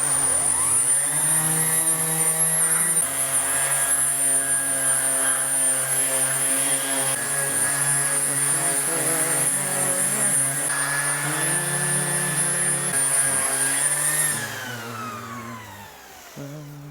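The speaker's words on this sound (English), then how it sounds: "We're just going to sand this thing real quick with 80 grit just to see what this top's going to look like." A guitar top is sanded with 80 grit sandpaper on a power sander, giving a loud, steady whine with a constant high tone for about fourteen seconds. The sound then winds down and fades.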